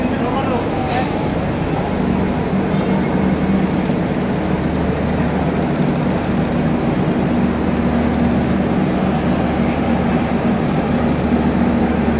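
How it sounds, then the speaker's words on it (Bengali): The Puri Express pulls into a railway station, a continuous heavy rumble of wheels and engine filling the platform for the whole stretch, with people talking over the din. "আমাদের এই ট্রেনটা ঢুকছে পুরী এক্সপ্রেস।"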